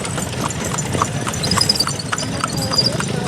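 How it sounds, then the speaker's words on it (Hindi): Hooves clip-clop steadily as a horse pulls a tonga carriage with children aboard, a brisk rhythmic trot close by, with someone talking over it. "इधर देखो घोड़ा कैसे माशाल्लाह भाग रहा है।"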